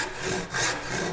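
A wooden joint part held in a vise being cut with a hand saw, close and clear, with about three quick back-and-forth rasping strokes and no talking.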